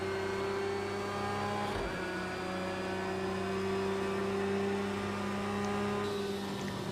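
Race car engine in Project Cars 2 at Spa in daytime endurance racing, a loud, steady high-revving drone with sustained tone, briefly dipping as the car shifts, then holding on through the lap.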